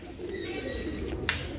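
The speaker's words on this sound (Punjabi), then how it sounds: "ਇਹ ਜਿੰਨੇ ਨੇ ਲਗਭਗ ਇਹਦੇ ਵਿੱਚ ਸਾਡੇ ਬਰੀਡਰ ਹੀ ਕਬੂਤਰ ਨੇ ਜੀ" Breeder pigeons in a loft give close, throaty rolling coos over a low murmur, with a brief sharp click or flutter near the end.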